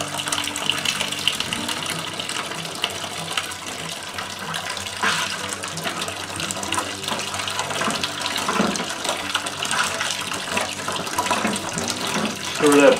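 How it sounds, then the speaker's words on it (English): Water pours and gushes steadily into whiskey mash grain during a batch sparge for a pumpkin and brown sugar mash, a continuous splashing flow heard close up with faint talk in the background. "we're going to batch sparge our grain here"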